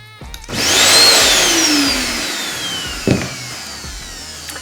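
A bagless household vacuum cleaner is switched on for a test before servicing, blowing air out instead of sucking. Its motor spins up to a loud, rising whine, then runs steadily and close, with a brief knock partway through.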